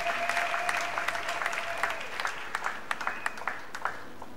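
A church congregation claps and applauds in acclamation of Jesus, a steady dense wash of hand claps with sharper individual claps standing out toward the end and a sustained tone running underneath.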